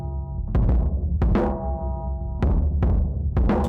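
A drum loop runs through the low band of Ohmforce's EMINENCE multi-band distortion plugin, with crushed, booming kick and snare hits and a ringing, fuzzy low tone between the hits.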